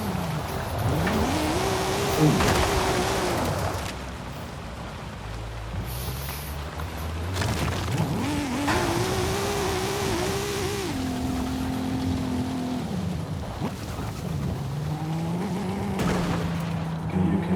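Toyota Supra engine revving and accelerating in repeated surges, each rising in pitch through the gears before dropping back, loud and close, with brief pauses between pulls and no talk over it.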